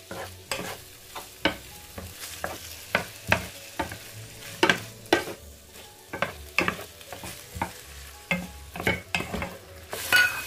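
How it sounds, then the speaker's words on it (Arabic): Chicken breast frying in a pan gives a soft steady sizzle, broken by repeated sharp scrapes and taps of a utensil stirring and turning the pieces at an irregular rhythm, close by with no talking. "نزيد البلوند بولي في المقله الزوجه ونقليهم"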